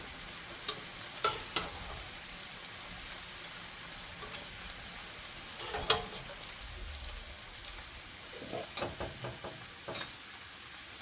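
Beans being stirred for a dip, a soft wet mixing and scraping with scattered light clicks of the utensil against the bowl, fairly quiet and with no voices.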